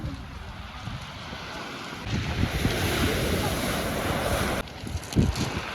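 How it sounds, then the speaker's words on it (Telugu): Sea waves wash onto the shore below the Seven Sisters cliffs, a broad rushing surf with swells rising and falling, mixed with gusty wind buffeting the microphone and faint voices nearby. "ఆ వేవ్స్ సౌండ్ ఏనండి ఎంత మంచిగా అనిపిస్తుంది"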